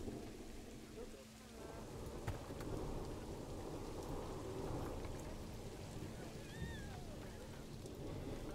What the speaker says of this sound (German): hier ist irgendwie großes Gewitter gerade